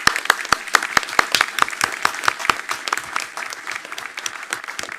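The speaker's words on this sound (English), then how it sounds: "let's give her a round of applause nonetheless" An audience at a school board meeting applauds, with several loud, distinct claps in front over a continuous background of many hands, tapering off toward the end.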